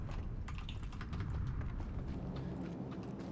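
Footsteps sound in a PUBG squad match, a string of quick, crisp steps tapping in an irregular rhythm at close range over a faint, steady game backdrop.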